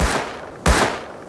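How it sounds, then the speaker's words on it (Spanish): Two sharp gunshots in the video game Rust, about half a second apart, loud and close, each with a booming low tail and no voices. "Creo que están disparando ahí."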